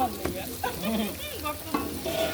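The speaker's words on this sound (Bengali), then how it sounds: "এখন পোলাও চাল দিয়ে দেব, এখন পোলাও চাল ভাজা হবে।" Polao rice frying in a pan with steady sizzling and stirring scrapes, close by, while voices talk nearby over the cooking.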